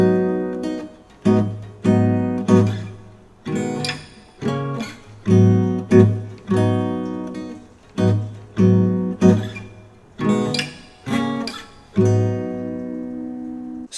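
Solo guitar playing a preview of a song without a capo, a steady series of strummed chords with regular ringing attacks, clear and close, no talking.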